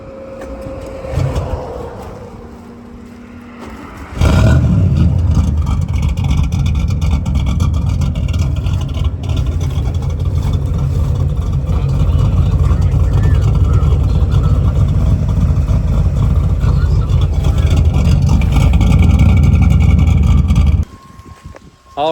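A car with a 350 small block engine starts after a short crank, then idles and revs loudly and steadily in a shop setting, with wind noise and brief talk near the start.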